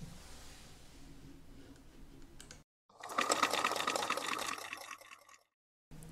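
A 1960s Bernina sewing machine stitches a skirt, running in one steady, dense mechanical whir for about two and a half seconds, then stopping suddenly. Quieter room noise comes before it.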